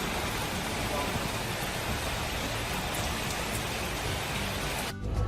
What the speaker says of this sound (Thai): ฝนตก ตกแรงด้วย